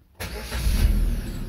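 A car engine starts with a sudden catch and settles into a loud, steady close-up rumble; no talking.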